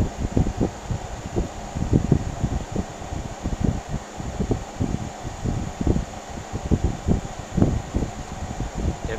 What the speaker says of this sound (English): it's the Danby 6000 BTU window air conditioner